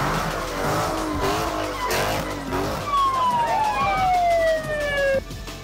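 Street racing cars in a video game, with engines revving and tires screeching through burnouts and donuts, loud and continuous, joined by a long descending whine near the end.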